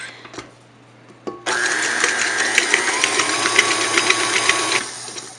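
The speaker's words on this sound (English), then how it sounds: "so it doesn't go all over when we turn on the mixer" An electric kitchen mixer whirs to life mixing cake batter, running with a steady, buzzing motor drone for a few seconds before switching off.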